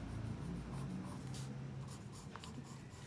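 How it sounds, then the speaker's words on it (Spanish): Pencil or pen scratching across paper while sketching a singer's body posture, a steady soft scraping with short strokes, close and quiet, no voices. "Voy dibujando."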